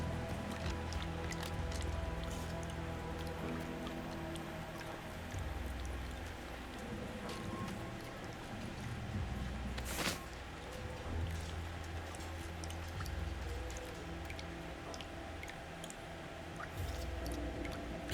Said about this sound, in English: Shit's dripping.